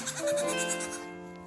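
A Nigerian Dwarf goat buck gives one drawn-out, wavering bleat, close and fairly loud, fading toward the end with no talking.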